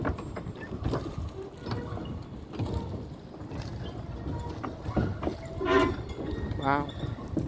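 Wooden docks creaking and squeaking as wavy water pushes against them, with rising, drawn-out squeals over a low, rumbling slosh, and a voice talking at times.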